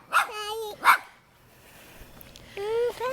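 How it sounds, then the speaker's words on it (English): A puppy gives two quick high yips, then a pause, then another short bark close by, with quiet background between. "It's a puppy. It's a puppy."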